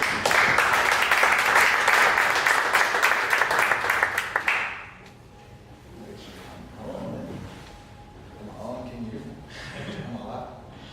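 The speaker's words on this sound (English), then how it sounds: "please stand up from your chairs and give a round of applause" Audience applause welcoming a speaker to the stage at a 1 Million Cups Dallas startup event: dense, loud clapping for about four seconds that cuts off abruptly, followed by quieter talk from people in the room.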